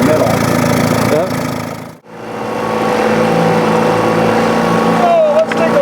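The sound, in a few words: 1959 Mercury Mark 10A outboard motor idling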